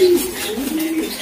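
Homing pigeons coo at their loft, close and loud, with a throaty warbling call that rises, dips and resumes in soft rolling phrases, with no one talking.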